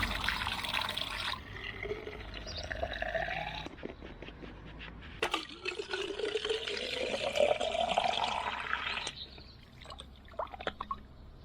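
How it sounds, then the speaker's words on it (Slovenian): Water is poured to fill bottles outdoors during a summer bike ride, a continuous splashing gush whose pitch climbs steadily as a bottle fills, with rustling and knocks around it. "vodo sva natočila"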